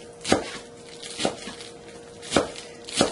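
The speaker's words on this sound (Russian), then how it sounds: "Шпинат нарезаем небольшими полосочками поперек листьев." A knife chops spinach leaves into thin strips on a cutting board, four crisp strokes spaced unevenly, close and fairly quiet with a faint background hum.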